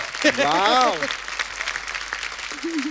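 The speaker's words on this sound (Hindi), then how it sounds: "जोरदार तालियां हमारी परफॉर्मेंस के लिए।" A voice rings out briefly, then a TV comedy show studio audience breaks into steady, dense applause that carries on to the end.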